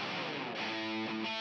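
A distorted electric guitar rings out in a short recorded passage, dense buzzing sustained chords with a harmonic shift near the end, loud and steady with no voices.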